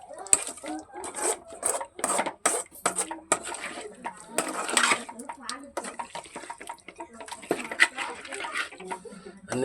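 Ingredients with fresh coriander stirred in a pan, giving irregular scraping, clinking and wet sloshing strokes that sound close and fairly loud.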